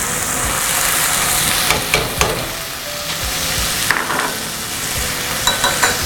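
A vegetable mixture of carrot and cabbage for cutlets stirred and cooking in a pan, a loud steady sizzle under occasional scraping stirs, close up with no talk.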